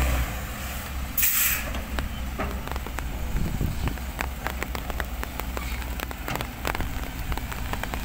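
Rain falls steadily around a work site, a dense even patter with scattered sharp drops striking metal surfaces, constant throughout with no voices.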